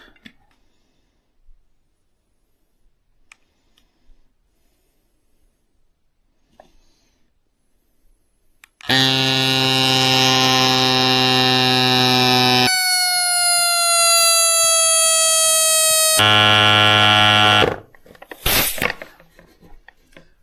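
A LIBERRWAY mini electric bicycle pump running, a loud, steady motor whine with a strong tonal buzz that shifts pitch partway through, lasting about nine seconds before cutting off, followed by brief clicks.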